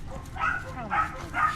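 A puppy yips and barks in three quick, fairly close bursts, with people talking softly in the background.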